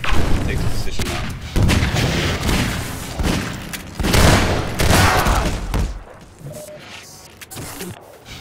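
Continuous loud gunfire and booming explosions from a Half-Life 2 Deathmatch tournament match, including shotgun blasts and RPG rockets. Dense, overlapping bursts crowd the first six seconds, then ease into quieter scattered shots and movement.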